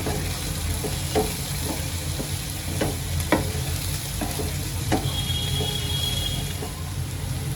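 Paneer bhurji masala frying in a pan, a constant close sizzle and crackle with regular spatula taps and scrapes as it is stirred.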